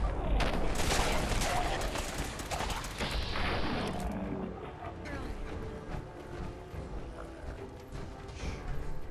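Gunfire in Fallout 4, a loud dense volley of rapid shots at the start that thins into scattered bangs and mechanical clatter, with voices talking over it.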